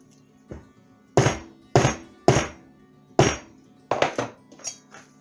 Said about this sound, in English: this is a trusty hammer that I use only in the kitchen